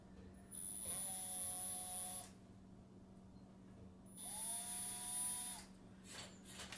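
A greased drill bit drills during a gauge install on a 2nd gen Cummins, two bursts of a high whining drill about two seconds each separated by a quiet pause, over a steady low hum.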